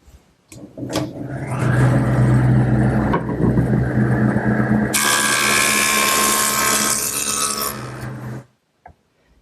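A jointer machine planes the edge of a ripped wooden board, a loud steady motor roar that thickens into a harsh, brighter cutting whine halfway through, then spins down to silence.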